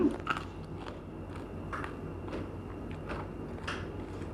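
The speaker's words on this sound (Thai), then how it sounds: "แคบหมูสุดยอดเลยจ้ะกรอบแบบหืม" Crispy pork rind being bitten and chewed up close, a series of sharp crunchy bites and crackles repeating at irregular intervals over a low, steady background hum.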